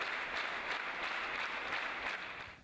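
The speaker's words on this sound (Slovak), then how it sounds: "Nadšené obecenstvo aj tentokrát ocenilo výkony hercov veľkým potleskom" A theatre audience applauds the actors at the close of a performance in Vranov, dense sustained clapping from a full house that stays steady and tapers slightly at the end.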